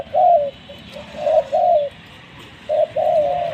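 Several soft, low coos from three decoy doves come in short phrases with brief pauses, close and clear over quiet background.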